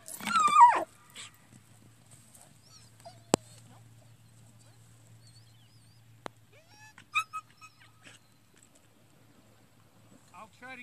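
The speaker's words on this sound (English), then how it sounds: "Dog." A dog whimpers in a brief high-pitched whine at the start, followed by mostly quiet with a couple of sharp clicks and faint scattered sounds.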